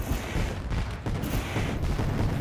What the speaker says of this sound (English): Great display of pyrotechnics here in Ohio.